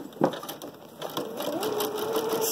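A sewing machine stitches a fabric chicken door weight with a faint, steady mechanical whir that settles into an even hum after a brief knock at the start.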